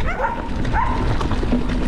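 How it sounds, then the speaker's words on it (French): Dogs barking at a mountain biker on a trail, two or three short yelping barks heard beneath steady wind and riding noise. "Oh, ils sont pas contents les chiens."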